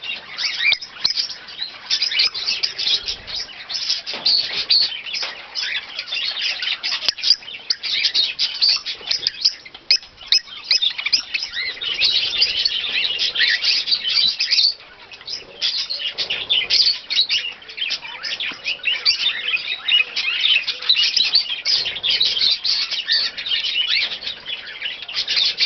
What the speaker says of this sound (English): These birds are not screaming or running up and down for attention. They're engaging in natural foraging behaviour